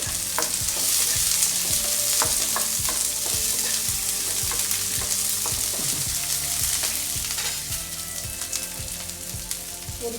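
Small shallots and garlic cloves frying and being stirred in a pan for an okra chutney, a steady loud sizzle with regular scraping strokes of the spatula throughout.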